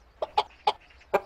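A hen in an animated film clucks in four short, sharp, evenly spaced calls, close and clear against near silence.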